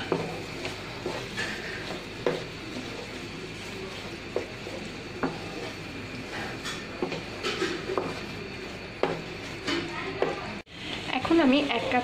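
Papaya and carrot halwa is stirred in a pan, giving a soft, continuous sizzle with repeated scraping strokes at a steady pace, close by, with no one speaking.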